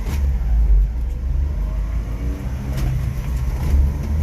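Engine of a blue Honda Acty HA4 mini truck on a test drive, a steady close drone with rises and dips as it is taken through the gears, loud and continuous.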